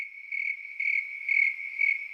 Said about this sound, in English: Hey, Caitlin, insert some crickets, Caitlin.